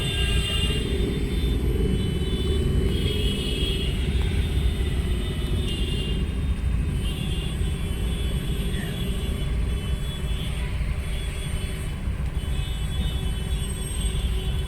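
Heavy traffic jam on a city road, with a continuous low rumble of idling and creeping cars and other road vehicles filling the whole stretch at steady loudness, no voices.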